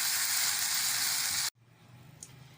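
Garlic ginger paste frying in a pan for keema karela, a loud bright sizzle that cuts off abruptly, leaving a faint low crackle afterward.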